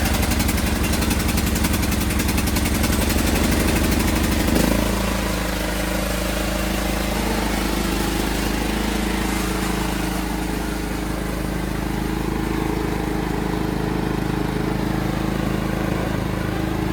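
A lawn mower engine drones loud and close while cutting a lawn by a lake, its tone dropping after a few seconds and then holding steady throughout.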